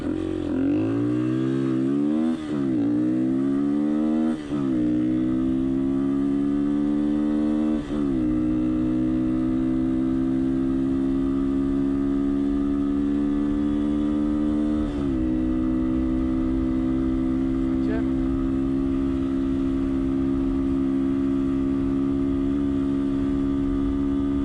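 A Honda XLR125R single-cylinder motorcycle fitted with a racing camshaft, climbing a hill, its engine revving up through several gear changes before settling into a loud, steady drone held at high revs.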